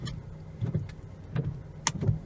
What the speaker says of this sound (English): There's the wipers